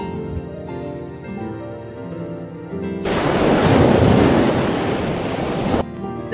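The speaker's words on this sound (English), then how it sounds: "The waves on the sea made me wish that I flew to get to that island of Baloo." Sea waves surge in a broad, loud wash of surf and wind, rising suddenly after a stretch of quieter background music and cutting off a few seconds later.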